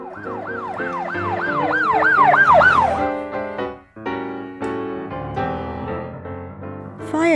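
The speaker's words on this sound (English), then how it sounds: "police car" A police car siren wails close by in rapid rising-and-falling sweeps, then gives way to steady horn-like tones and a final short whoop.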